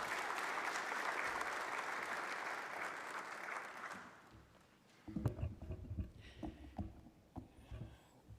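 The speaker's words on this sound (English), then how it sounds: "Please let's give him a round of applause." Audience applause at a green hydrogen pilot project award ceremony in Namibia, a steady clapping wash that fades out midway before other sounds take over.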